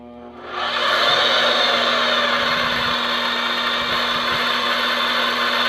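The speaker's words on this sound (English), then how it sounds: "once I click this magnet, it's going to engage the magnet and then automatically start the drill turning" A Vevor magnetic drill starts up with a quick rising whir, then runs at a steady, close, loud hum with slight low thumps partway through.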